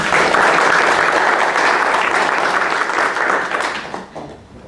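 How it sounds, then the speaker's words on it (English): Audience applause at a poetry reading at the River Road Annex, steady dense clapping from a crowd filling the room, holding loud for about four seconds before thinning out at the end. "I'd like to make a wee request to hold the applause till the end"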